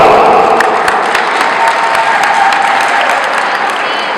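An audience at an event in Chmielno applauds a contestant named Sobota, a loud, dense and steady wash of many hands clapping that carries on evenly for the whole stretch without pause.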